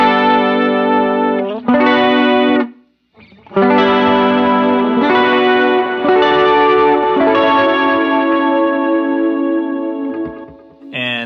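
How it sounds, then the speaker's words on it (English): An electric guitar plays sustained chords through a chorus effect pedal on a worship guitarist's pedalboard, shimmering and loud with a short gap partway, ringing out alone. "Here's a little demo of the chorus setting."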